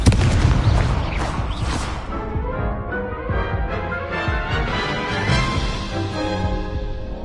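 A Confringo blasting spell goes off in a wizard video game: a loud explosive burst at the start, then rumbling, crackling aftershocks under a tonal game soundtrack.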